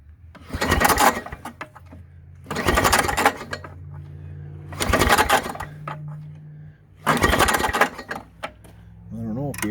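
Tecumseh engine on an MTD snowblower being pull-started, four loud close bursts of cranking spaced about two seconds apart, with a low hum between pulls and speech around them.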